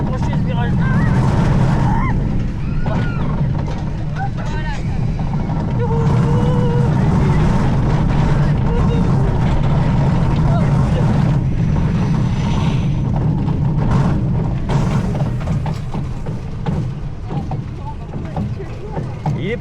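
A small bobsled roller coaster at an amusement park rumbles and rattles through its curves in a steady, loud roar mixed with wind buffeting the microphone, while a rider talks throughout.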